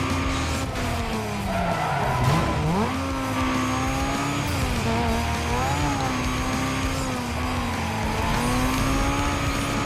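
A Mitsubishi Lancer Evo racing engine in Need for Speed Most Wanted (2005) roars continuously with rising and falling revs and tire squeals, loud and close, with no talking.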